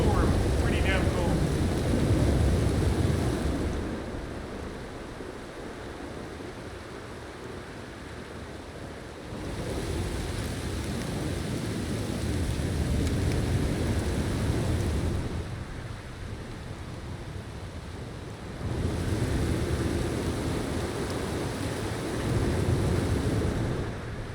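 A prolonged rainstorm in Red Dead Redemption 2 roars with steady rain and gusting wind that swell and ease in long waves, heavy and enveloping throughout, with low rumbles suggesting thunder.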